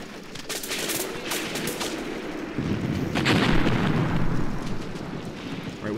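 Gunfire and explosions in the war video game Graviteam Tactics: Mius Front, a dense rumbling battle of overlapping shots and booms, continuous and moderately loud with a heavier surge midway.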